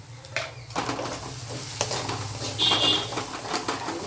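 A spice paste of white mustard and melon seed with a little sugar fries in oil for doi soyabean, a close crackling sizzle with spoon scrapes and a brief chirp of birds outside.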